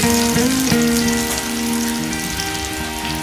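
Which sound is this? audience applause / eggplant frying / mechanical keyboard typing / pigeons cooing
eggplant frying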